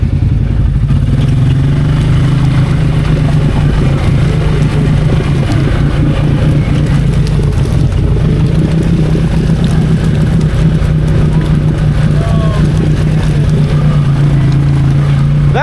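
Can-Am G3 and Polaris HL off-road vehicles churn through deep mud, their engines droning loudly and steadily with sustained revving and clattering throughout.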